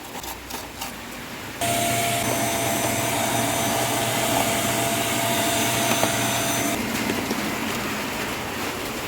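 Vacuum cleaner running steadily on Epson L360 printer parts during a repair, a loud continuous whooshing drone that starts abruptly after a short stretch of quieter handling noise and then holds steady.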